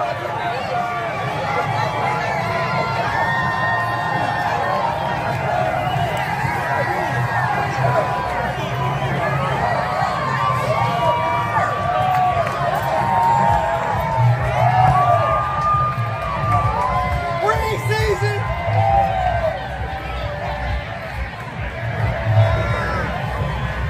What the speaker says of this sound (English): Stuck in the crowd right now.